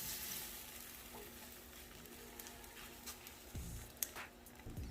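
An egg sizzles and fries in a nonstick Always Pan skillet, a soft, steady crackle with occasional scrapes and taps from a spatula, fairly quiet throughout.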